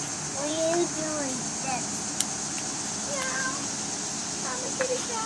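A small child imitates a cat, giving several high, sliding meow-like cries in a playful voice over steady background hum, with speech nearby.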